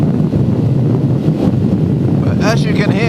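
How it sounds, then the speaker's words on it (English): Steady roaring wind buffet across the microphone while riding a BMW R1250R motorcycle along a 60 road on a windy morning, loud and continuous throughout. "it's pretty windy out here today"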